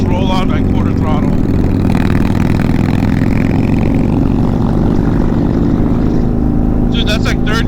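A Harley-Davidson Softail Low Rider S with a 131ci Stage 4 engine, in sixth gear, rolling on throttle with a steady, loud, low rumble that builds gradually, with riders' voices heard briefly over the engine.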